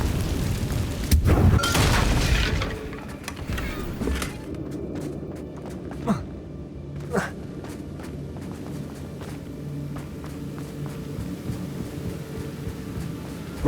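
Confringo spell blasts in Hogwarts Legacy on Switch: a loud rumbling burst early on, followed by a few sharper fiery impacts and scattered game effects at lower level.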